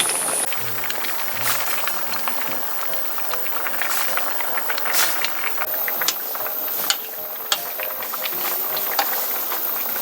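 Doenjang broth boils vigorously in a pot for spring flounder and mugwort soup, a dense, steady bubbling and crackling that runs the whole time with no one speaking.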